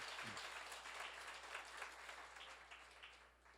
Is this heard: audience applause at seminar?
yes